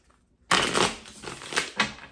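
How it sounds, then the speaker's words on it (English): Tarot cards are riffled and shuffled up close in a quick flurry of papery flutters and slaps, with a couple of sharper bursts near the end. "Let me give them a good shuffle."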